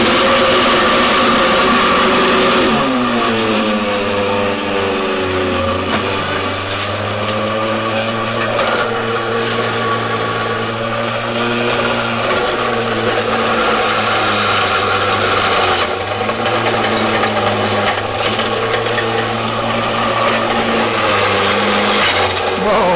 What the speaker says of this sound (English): I'm going to turn the blender on.